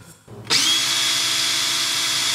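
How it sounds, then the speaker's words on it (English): A power drill starts abruptly after a brief quiet moment and runs at a steady, flat, loud whir with no pauses. "This power drill is pretty much flat on the waveform."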